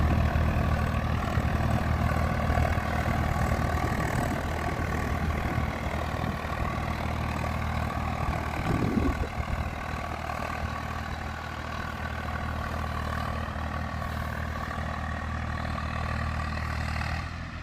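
A heavy tractor engine rumbles steadily nearby, a deep continuous throb with a brief surge partway through before settling back to a constant run.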